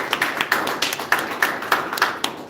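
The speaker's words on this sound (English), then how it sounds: "please welcome him with a huge round of applause" A small club meeting audience claps for a member, sparse and uneven individual claps, fairly close, with no voices over them.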